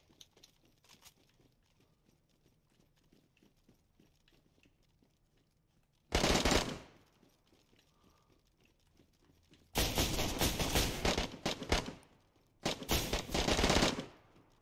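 Bursts of automatic gunfire in DayZ: a short loud volley, then two longer rapid bursts close by, separated by quiet stretches of faint footsteps and ambience.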